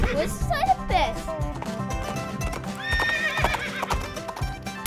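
Toy-like horse sound effect: a high whinny over brisk, rhythmic clip-clopping hooves, loud and close, followed by a second shorter neigh-like trill as the hooves keep trotting.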